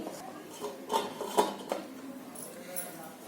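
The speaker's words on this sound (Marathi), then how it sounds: "आता याच्यावर मी झाकण मारते" Metal lid set onto a pan of pineapple sheera, a few light clanks and clinks of metal over soft kitchen background, close and brief.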